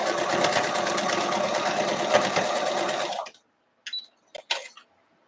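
A sewing machine stitching a quilt block hums loudly and steadily for about three seconds, then stops, followed by a few short clicks and taps.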